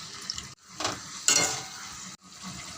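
Potatoes and pointed gourd cook in a pan after a little water is added. A close hiss and sizzle swells in short bursts, broken by brief silent cuts and faint utensil clinks.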